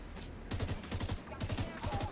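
Minigun firing in The Division 2, a dense, continuous rattle of rapid shots in two sustained bursts with a brief gap, loud and close.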